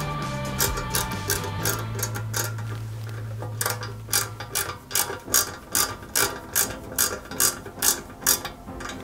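Small flat-head screws are driven by hand into a plastic part of a Ford Gran Torino model car, giving close, crisp ratcheting clicks that settle into a steady, evenly spaced rhythm of about one click per half second.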